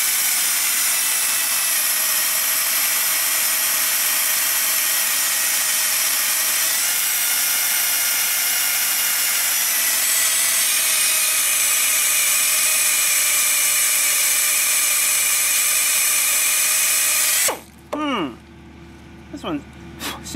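A drill bit drilling out broken studs on a Land Rover 110, a loud steady whine that runs for about seventeen seconds and then cuts off, leaving quieter sounds and short noises at the end.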